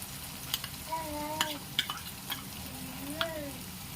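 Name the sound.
stirring onion, tomato and garlic chutney frying in oil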